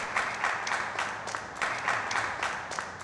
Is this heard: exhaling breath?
no